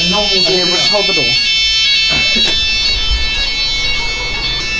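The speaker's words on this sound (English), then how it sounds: "when the fire alarm went off" A hostel fire alarm blares loud and continuous with a steady high electronic tone, while people talk over it close by.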